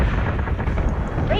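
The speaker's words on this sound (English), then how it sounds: "Fighter squadron is taking fire." Dense, continuous gunfire and artillery-like blasts roll on without pause as a fighter squadron comes under fire in Battlestar Galactica: Deadlock, a loud, busy barrage with faint voice chatter mixed in.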